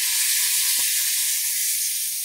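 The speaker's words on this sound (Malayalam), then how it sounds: "നമുക്ക് ഈ തക്കാളി ചെറുതായിട്ട് അരിഞ്ഞ് വെച്ചിരിക്കുന്നത് അതിട്ട് കൊടുക്കാം" Chopped tomatoes hit hot oil with Kashmiri chili while dal methi is being cooked, producing a loud, steady hiss of sizzling with one soft thump near the start.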